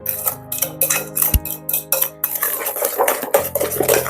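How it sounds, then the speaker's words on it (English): Spoon scraping and clinking against a bowl while mixing banana loaf batter, irregular metallic knocks and ringing taps in quick succession, close and loud. "Mix it all nicely."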